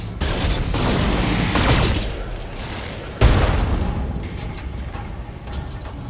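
Weapons firing in the BattleTech mech combat video game, a dense roar of rapid booming fire lasting about two seconds, a sharp heavy impact a moment later, then rumbling blasts that fade out.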